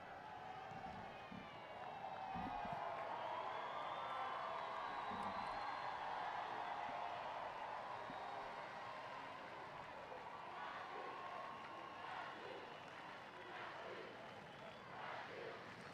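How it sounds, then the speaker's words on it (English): Large football stadium crowd roaring and cheering in a sustained, swelling wash of noise that builds and holds, with commentators talking over it. "And now the crowd, if any were starting to worry, are really getting into it."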